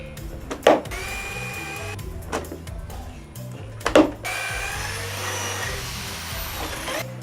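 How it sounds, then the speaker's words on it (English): A power drill bores pocket holes into freshly cut wood slabs for an arcade cabinet build: a couple of sharp knocks, then a loud, steady whirring grind over a low background hum. "I've cut out these slabs and I'm going to put pocket holes in them as well."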